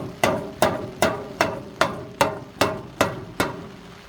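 A hammer strikes the metal glove box of a 1936 Oldsmobile again and again, making about nine sharp, evenly spaced blows with short ringing decays, close and clear with no talking.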